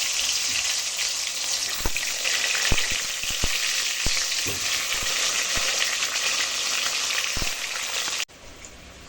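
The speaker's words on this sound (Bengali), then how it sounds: "তারপরে আলুগুলো দিয়ে ভেজে নিচ্ছি" Potatoes fry in hot oil in a kadai with a dense, constant sizzle, broken by sharp ladle clicks and scrapes, until the sound cuts off abruptly near the end.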